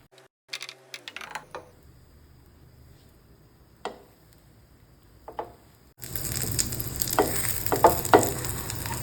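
A bread sandwich set in melted butter in a hot pan, a few light clinks and taps first, then a steady sizzle and frying crackle that starts abruptly and carries on close and clear without talking.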